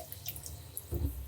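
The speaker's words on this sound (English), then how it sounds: "Now I'm gonna drain the sink of the vinegar water." Vinegar water drains from a kitchen sink after fruit has soaked in it, giving a short gurgling watery rush that swells near the end and is heard close up.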